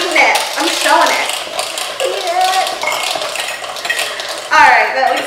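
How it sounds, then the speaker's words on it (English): Pumpkin puree and brown sugar are beaten in a bowl, a busy run of close, loud utensil scraping and clinking against the dish, fairly continuous with a sharper clatter near the end. "a 1/4 cup of pumpkin puree and a 1/3 of a cup of brown sugar. Beat this up a little bit."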